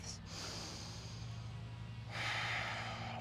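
Slow, deep breathing during a yoga session: a soft airy inhale followed by a louder, fuller exhale, close and quiet with no talking.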